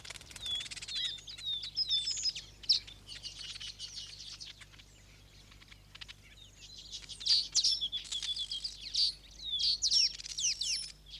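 Masked weavers calling while building their nests, a busy mix of sharp chirps and buzzy chatter from several birds at close range, fading briefly in the middle before swelling again.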